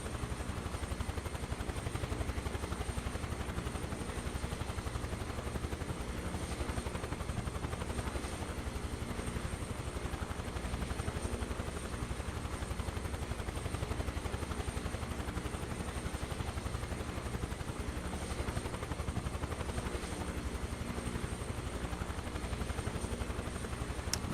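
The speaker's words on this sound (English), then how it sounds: "Now I'm starting to remember how to fly a helicopter." Helicopter in a flight simulator game, with a steady, loud rotor and engine drone that runs continuously throughout without any breaks, and no voices anywhere over it.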